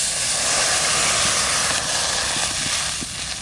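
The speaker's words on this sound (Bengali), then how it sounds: "জল দিচ্ছি" Water poured into a hot cooking pot while preparing a Bengali dish of water lily stems with shrimp, giving a loud, steady, broadband sizzling hiss that runs continuously and eases slightly near the end.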